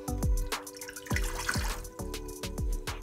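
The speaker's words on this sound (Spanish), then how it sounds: "y le vamos a agregar una taza de agua." Water poured from a cup into the inner pot of a Ninja Foodi 6.5-quart pressure cooker and air fryer, heard as a close series of splashing, dripping pours in bursts with no talk.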